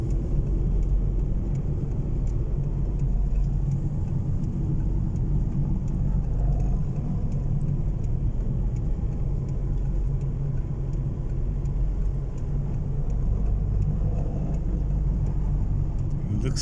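A car's steady engine hum and low road rumble fill the cabin continuously during a dust storm, a constant drone without much change.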